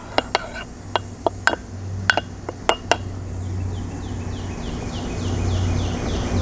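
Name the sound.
stirring lime into sweet corn chowder in a pot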